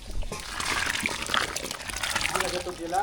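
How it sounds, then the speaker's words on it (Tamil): Tamarind water splashing and pouring into a large pot of sambar during big-batch cooking, a close liquid trickle and splatter with people talking over it. "கடைசியாக சாம்பாருக்கு வந்து புளி தண்ணி சேர்த்துக்கலாம்"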